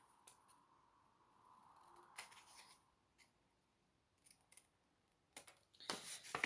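Scissors cut through paper along a marked line for an album page, a few brief snipping bursts that build into quicker, louder cuts at the end, close and clear over a quiet room.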